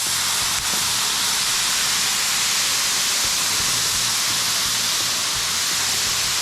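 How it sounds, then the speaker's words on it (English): Water steaming and sizzling on a hot Blackstone griddle during cleaning, a loud, steady broadband hiss that runs unbroken throughout with no talking. "So I'm going to let the water steam up."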